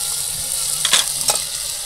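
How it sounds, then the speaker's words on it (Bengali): Drumstick stalks frying in a pan with turmeric, mustard paste, onion paste and chilli powder, a steady close sizzle with a couple of brief stirring scrapes. "এবার সব মশলাগুলোকে ডাঁটার মধ্যে একদম ভালোভাবে কষিয়ে নেবো।"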